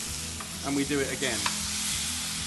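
Beef steak sizzling in hot fat in a frying pan with rosemary and garlic, a steady close crackle and hiss throughout, with brief utensil stirring sounds and a short spoken phrase over it.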